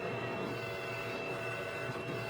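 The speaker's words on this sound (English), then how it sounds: "you can hear the printers moving" A UV printer prints onto wood, producing a steady mechanical hum with tonal whine and faint carriage movement, continuous and fairly loud throughout.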